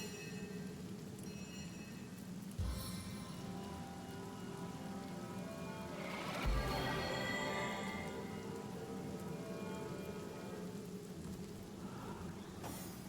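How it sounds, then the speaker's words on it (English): Rain spell in the video game Divinity: Original Sin, a steady, dense hiss of rainfall throughout, broken by a couple of sharp impacts and a brief swell of heavier downpour midway. "Make it rain over there. Drizzle to deluge."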